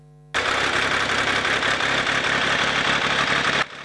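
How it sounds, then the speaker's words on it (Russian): A tractor engine clearing snow from sidewalks kicks in suddenly and holds a steady, loud, close diesel drone with a rhythmic knocking pulse, then drops away near the end; no talking. "Сначала трактор, а следом сразу три лопаты."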